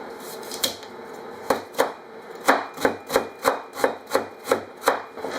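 A knife chops carrots on a cutting board in a run of about a dozen crisp, close thunks, slow at first, then in a steady even rhythm, with no voices.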